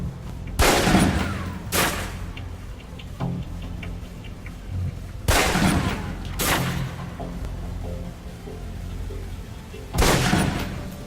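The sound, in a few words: pistol shots at a target in video game Alpha Protocol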